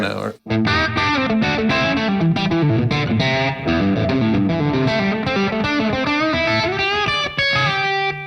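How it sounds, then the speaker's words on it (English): A heavily distorted electric guitar plays a continuous run of notes with a thick, saturated, buzzing tone, loud and sustained throughout. "I love a distortion pedal that can mimic that perfectly"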